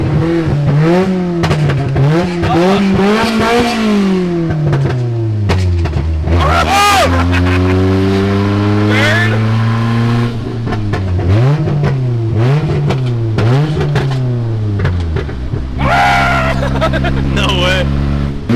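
A 60hp Honda Civic drifting on McDonald's trays revs hard through repeated rising and falling engine sweeps, loud and close, with gear changes and people talking over it.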